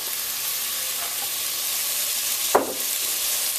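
Garlic sautés in a pan as part of roasted red pepper tomato basil soup, giving a steady, soft sizzle throughout with one brief louder clatter partway through, no talking.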